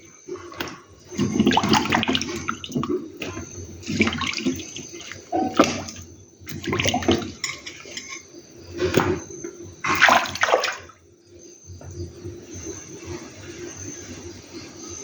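Tapioca (cassava) pieces being washed in water in a pot, with repeated bursts of sloshing and splashing as the roots are stirred and rubbed, separated by brief pauses, close and fairly loud with no talking.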